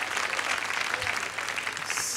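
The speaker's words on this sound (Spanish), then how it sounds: "Un aplauso entonces para Óscar Andrade." Audience applause at a televised tribute show, steady dense clapping filling the whole stretch at moderate level, with no voices on top.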